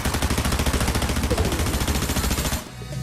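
A Surge Fire SMG in Fortnite fires one long, very rapid continuous burst, loud and close, before cutting off abruptly near the end.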